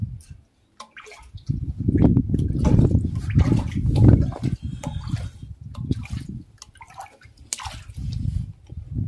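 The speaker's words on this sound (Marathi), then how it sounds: "इथे एक पाण्याचा टाका आहे, पिण्या वगैरे जरा पाणी आहे पण जरा ते आपण घेतोय." Water is scooped and sloshed from a rock-cut cistern at Chanderi Fort in the Sahyadri hills, with close, irregular splashes and gurgles that come in bursts for several seconds.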